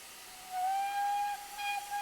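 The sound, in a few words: GWR 2600 Class steam locomotive whistle, Train Simulator 2020 video game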